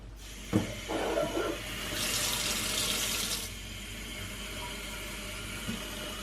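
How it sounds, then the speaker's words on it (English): Water runs from a tap in a steady hiss, a few clunks of handling at the start, then the flow fades to a faint trickle. "add some water to it."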